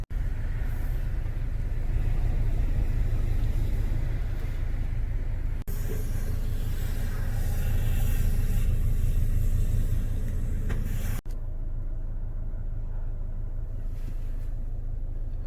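Machinery of an old Belanger car wash system running inside the tunnel, a steady loud low rumble with wash spray hiss, shifting character at two abrupt cuts.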